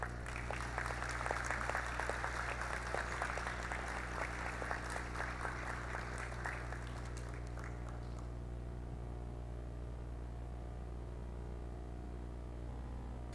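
Applause from an audience at a corporate social responsibility awards ceremony, a steady dense clapping for about seven seconds that then cuts off, leaving only a low background hum.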